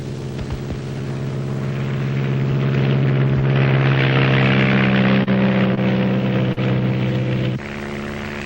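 Two small propeller planes fly over rainforest, their engines droning loudly and steadily with a throbbing, pulsing buzz that swells and shifts in pitch, heard from close by, apparently from on board.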